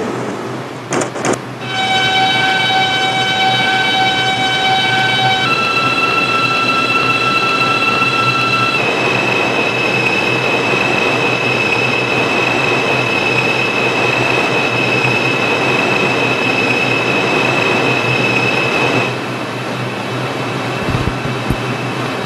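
An R142 subway train runs on New York's 6 local line, a loud steady rumble inside the car. Rising electric motor whines step up in pitch as it accelerates, and the noise holds before easing near the end.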